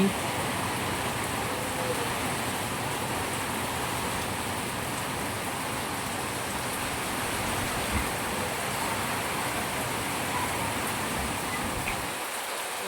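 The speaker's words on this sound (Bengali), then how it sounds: "তো এখন এই যে বৃষ্টি পড়ছে, অঝরে বৃষ্টি।" Heavy, steady downpour with gusting wind on a rainy day, a dense continuous hiss that stays loud and even throughout, with no voices and only a slight drop at the very end.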